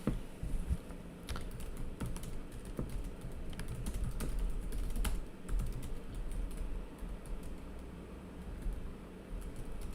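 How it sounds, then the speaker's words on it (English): Someone types a question on a computer keyboard, a steady run of quiet key clicks with a few louder taps over a low background hum, close by. "Type in our question."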